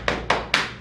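Three sharp pats of hands on a surface, evenly spaced and close, with no voices.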